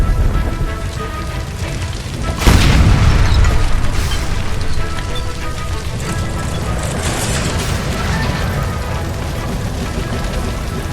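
A gas line blows up indoors in L.A. Noire, a sudden loud boom partway through that rolls into a sustained roar and crackle of fire and debris, continuing as dense noise for several seconds.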